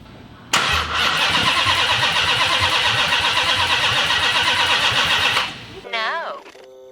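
A Hellcat Redeye engine swapped into a Magnum cranks loudly and steadily for about five seconds without catching, then cuts off as a voice speaks briefly.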